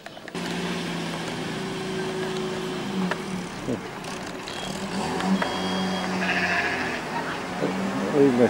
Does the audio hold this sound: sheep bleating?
yes